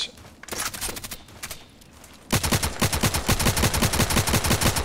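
RFP gun fire in Contract Wars, scattered shots at first, then a steady rapid automatic burst that is loud and close and continues to the end.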